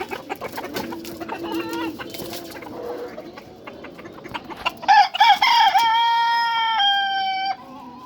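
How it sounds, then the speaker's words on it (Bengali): Fayoumi chickens cluck and call near a coop as its gate is opened, with a loud rooster crow near the end and scattered bird sounds, close and clear without speech. "আজকে আবার বিকালেও আমি মুরগির ঘর গেটটা খুলে দিচ্ছি মুরগি যাওয়ার জন্য"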